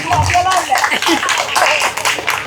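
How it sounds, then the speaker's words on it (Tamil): An audience at a Thai Pongal festival gathering claps, uneven bursts of hand clapping mixed with talking voices and shuffling, fairly close and loud. "எல்லாரும் ஒரு பெரிய கைத்தட்டல் கொடுங்க"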